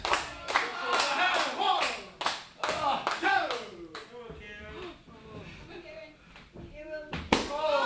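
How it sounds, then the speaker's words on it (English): Crowd at a live WRESTLEFORCE professional wrestling show in Chelsea claps and cheers in loud bursts, with sharp slaps and thuds mixed in and a commentator's voice talking over much of it. "Jay Joshua just asked the crowd, are you cheering for Kieron Lacey? There's your answer"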